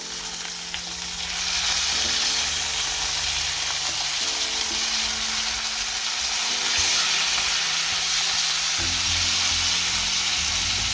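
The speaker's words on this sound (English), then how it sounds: "now we're gonna leave it to cook for like 2-3 minutes on each side" Homemade Cajun-spiced burger patties fry in a pan with a steady, loud sizzle and crackle that runs the whole time, close up and with no talking.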